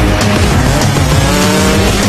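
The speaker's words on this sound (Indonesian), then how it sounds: "Tiba-tiba Rade datang dengan menggunakan mobil jeepnya" A jeep roars in during an Indian action film scene, its engine loud and close with screeching tires, the noise continuous throughout.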